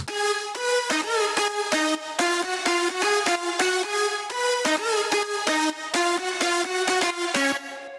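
Bright electronic synth leads play a rhythmic, stabbing melodic line in a dance drop, loud and steady with short repeated notes and little low end beneath.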